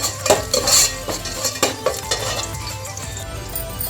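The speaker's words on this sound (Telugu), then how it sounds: "వెల్లుల్లి చిన్న చిన్న ముక్కల కింద అయితే కోసాను ఇవైతే వేస్తాను ఇవి వేసి కొంచెం వేపుకోవాలి" Finely chopped garlic fries in a pan for a vegetable dum biryani, a bright sizzle under repeated clinks and scrapes of a utensil stirring against the metal.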